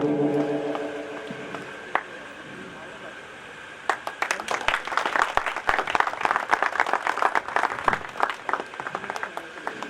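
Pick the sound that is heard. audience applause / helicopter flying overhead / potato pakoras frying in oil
audience applause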